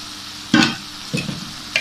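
Apricot chutney with sugar and salt stirred in a pan, heard as three short bursts of spoon scraping and sizzle separated by quieter gaps, close and fairly loud.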